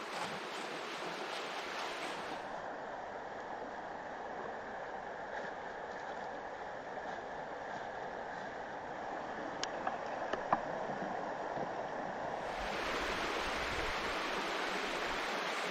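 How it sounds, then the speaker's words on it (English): Steady rushing stream water runs continuously near the microphone while fiddleheads in a wire basket are rinsed in it, with a few faint clicks partway through and no talking. "wash them in a convenient stream"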